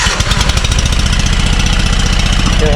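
A Scag Turf Tiger mower engine with a dead cylinder runs roughly with an uneven, lumpy chugging rhythm, loud and close, missing beats like a misfiring cylinder.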